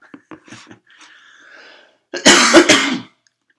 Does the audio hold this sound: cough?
yes